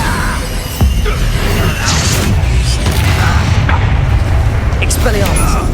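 A Bombarda explosion spell bursts in a Hogwarts Legacy hard-mode battle, a heavy boom over constant combat din with overlapping speech and repeated impacts.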